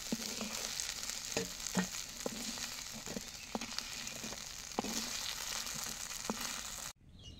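Eggplant slices frying in oil give a steady, close sizzle with faint intermittent clicks and scrapes throughout, cutting off abruptly near the end.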